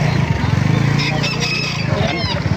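Several gamefowl chickens, including Lemon Sweater, Hatch Gray and Henny birds, cluck and call together nearby in Calumpit, with a rooster crowing over the flock and steady background noise throughout.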